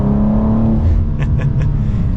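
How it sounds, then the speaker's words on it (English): A 2023 BMW M2 with a manual gearbox accelerates while driving, its engine a loud, close, steady drone heard from inside the car. "So setting off now in the M2."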